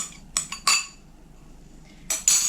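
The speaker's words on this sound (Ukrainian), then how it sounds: "І просто лопаткою все перемішую" A spatula stirs coconut butter cream made with milk and coconut flakes in a bowl, giving a few sharp clinks and scrapes against the dish separated by quiet pauses, with no voices.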